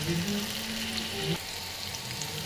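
Beef tripe sautéing in a pan with garlic paste, chilli paste, cumin, coriander and turmeric, a close, steady sizzle with a brief scrape or stir midway.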